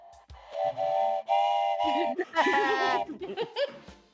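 A voice imitates a train whistle, giving a long hooting whistle-like call in repeated sustained blasts with laughter and chuckling mixed in, loud and close.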